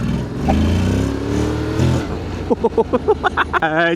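A Honda X-ADV 750 scooter engine revs up in a long rising drone, then fires a quick series of short, sharp throttle blips, loud and close.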